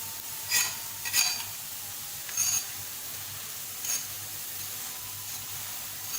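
A lachha paratha cooks on a pan with a soft, steady sizzle, broken by a few brief scraping and clinking touches of a utensil.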